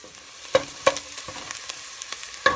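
Food fries in a pan until lightly golden for Turkish soup, a soft steady sizzle broken by a few sharp clinks and scrapes of stirring, close and without voices.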